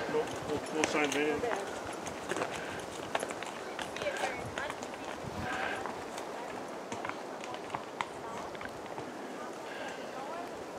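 Horses pass along a mountain trail in the Canadian Rockies, their hooves making soft, uneven clip-clop steps against a steady outdoor background while people talk nearby.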